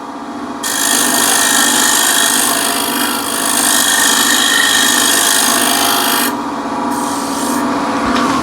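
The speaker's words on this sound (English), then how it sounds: "I can shear scrape like so" An old chisel reground into a scraper shears along a wooden surface in a steady, continuous rasping stroke, loud and close, with a short pause near the end before scraping resumes.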